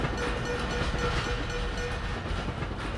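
A train rumbles past overhead in the Dishonored video game, near Dunwall's sewers: a steady, loud rolling clatter of rail cars that fills the whole stretch without a break.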